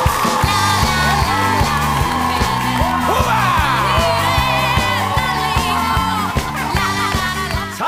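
A studio audience at a Korean variety show cheers and whoops over loud rhythmic music, with excited shouts rising above the beat throughout.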